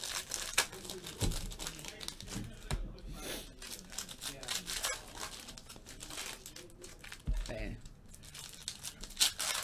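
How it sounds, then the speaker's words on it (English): Foil packs of 2016 Panini Certified football cards are torn open and crumpled up close in sharp, irregular crinkling bursts, with people talking between the rips. "Now, let's open up all the packs."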